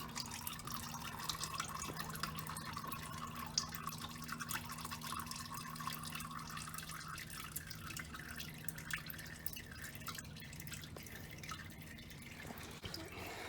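Engine oil from a 2002 Chrysler PT Cruiser draining into a pan, a quiet steady trickle and drip with a low hum beneath it, no talking.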